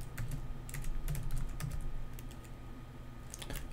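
A terminal command being typed on a computer keyboard produces close, quick key clicks in short bursts, with a brief pause near the end before a few more taps.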